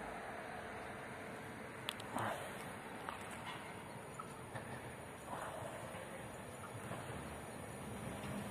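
A Regio regional electric train, unit ED78021 on the Szczecin Główny to Świnoujście service, pulls into a station platform with a steady rolling rumble and a few scattered clanks at moderate distance.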